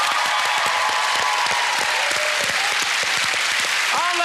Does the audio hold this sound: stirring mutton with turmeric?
no